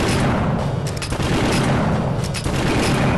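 Weapon fire from the Nintendo DS mecha game Super Control Mecha MG, a loud dense barrage of rapid shots and booms rolling on without pause.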